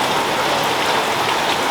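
Heavy rainy-season rain falls steadily and loudly on surfaces, a dense continuous hiss with no gaps and no voices.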